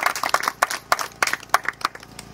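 Clapping at a temple puja gathering, a few people applauding in sparse, uneven bursts rather than a full ovation, close and moderately loud, with no speech.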